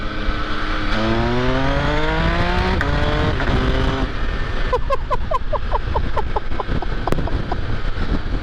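A 2024 MV Agusta Enduro Veloce motorcycle engine revs up through rising gears with a loud, sweeping whine, then burbles and pops in quick bursts, close and powerful.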